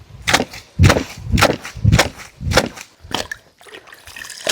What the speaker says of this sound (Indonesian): Enaknya nyuci di sungai, tinggal bilas-bilas kayak gini teman-teman.